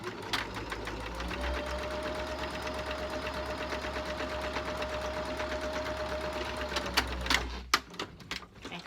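A sewing machine runs steadily, stitching a cloth face mask in a rapid even whir of needle strokes for about seven seconds, then stops with a few clicks and handling sounds.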